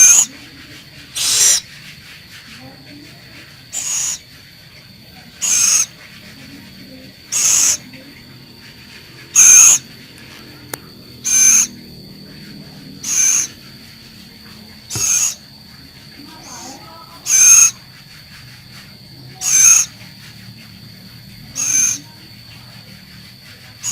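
A captive scops owl (celepuk) gives a series of short, evenly spaced hoots, about one every two seconds, loud and near against a quiet background with faint low rumble.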